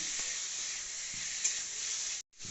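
Katla fish curry with fried potato and pointed gourd is stirred in a hot pan, giving a steady, close sizzle with faint scraping strokes before it cuts off briefly.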